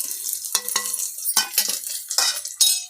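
Dry red chillies, garlic and asafoetida frying in a pan with onion and curry leaves give a close, steady sizzle broken by repeated scraping stirs of a spoon against the metal, with no talking.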